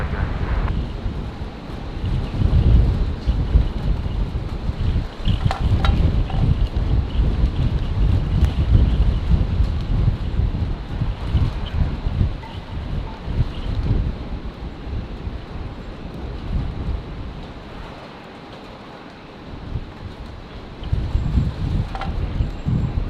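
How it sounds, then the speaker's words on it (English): Strong wind buffets the microphone at Brisbane Airport, a loud continuous rumbling roar with gusty surges and a brief lull near the end. "with the wind doing what it's doing"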